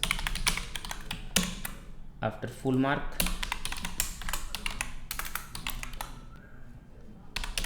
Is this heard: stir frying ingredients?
no